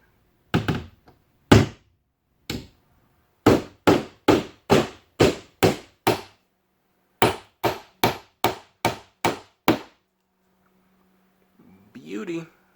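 Finish nails hammered into a plywood garage countertop, a series of sharp hollow knocks, single blows then a fast run of about a dozen strikes, close and loud, followed by brief faint shuffling.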